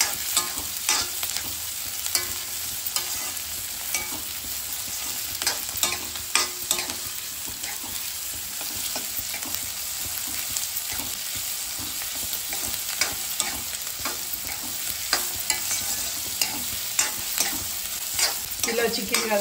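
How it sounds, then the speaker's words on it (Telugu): Three onions frying in a pan until brown for a green chicken curry, giving a steady, dense sizzle with scattered stirring scrapes throughout, close and continuous with no talking. "మూడు ఉల్లిగడ్డలండి ఇవి. మంచిగా వేయించుకోవాలండి. ఇవి బ్రౌన్ కలర్ వచ్చే వరకు వేయించుకోవాలి."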